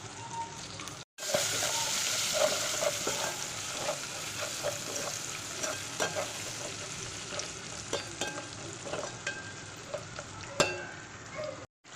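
Chicken and curry leaves fry in a pan with onion paste and turmeric while a spoon stirs and scrapes, a steady sizzle broken by clattering strokes, close and fairly loud with brief dropouts.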